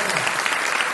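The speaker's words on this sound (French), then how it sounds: "Un grand applaudissement pour ce Dieu si magnifique." A congregation at a Bible study gathering claps in a brief, dense burst of applause, a steady wash of many hands lasting about a second.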